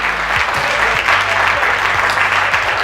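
An audience applauds continuously, a dense, even clatter of many hands clapping at once without a break.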